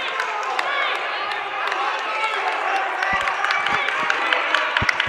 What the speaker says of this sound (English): And you can hear the crowd in the background now going for both teams